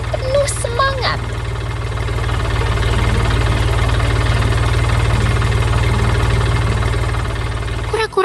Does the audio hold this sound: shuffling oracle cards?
no